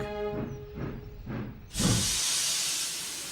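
A storybook steam locomotive straining with a heavy express up a hill gives several slow rhythmic puffs, then a loud, sustained hiss of escaping steam takes over and holds steady to the end.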